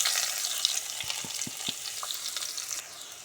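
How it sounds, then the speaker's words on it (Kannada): Finely chopped onions hit a little hot oil with cumin seeds and a piece of cinnamon. A close, hissing sizzle carries a few soft thumps and stirs early on, then settles into steady frying. "ಸ್ವಲ್ಪ ಜೀರಿಗೆ, 1 ಪೀಸು ಚಕ್ಕೆ, ಬೇಲಿ, ಈರುಳ್ಳಿ ಚಿಕ್ಕದಾಗಿ ಕಟ್ ಮಾಡಿ ಹಾಕೋಣ"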